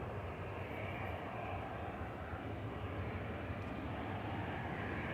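Helvetic Embraer E190 jet departing Manchester Airport for Zurich, a faint, distant, steady engine roar holding evenly throughout.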